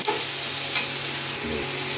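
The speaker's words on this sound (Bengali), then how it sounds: "মোটামুটি ভাজা হয়ে গেছে পেঁয়াজ আর টমেটোটা" Onions and tomatoes frying in a pan, a continuous close sizzle and crackle with a steady even level and a faint scrape of stirring, no talking.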